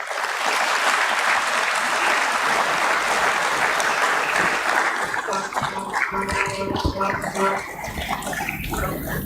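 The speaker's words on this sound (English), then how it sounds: "Big round of applause" Loud, dense applause from a crowd at a stock exchange listing ceremony for Landmark Cars, steady for about six seconds before thinning into scattered claps while a voice starts speaking.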